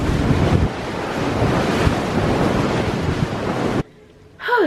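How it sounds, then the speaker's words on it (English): Strong wind roars across an open cruise ship deck with waves surging below, a loud, blustery rush buffeting the microphone before cutting away abruptly near the end. "Super windy."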